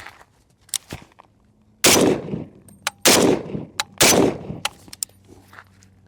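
FAL rifle fitted with a Picatinny stock adapter fires three loud, close gunshots about a second apart, with sharp metallic clicks and handling noises before and between them.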